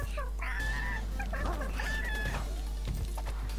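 A chicken character in the video game Ultimate Chicken Horse clucks and squawks in quick bursts over a constant low hum, close and clear, with no talking.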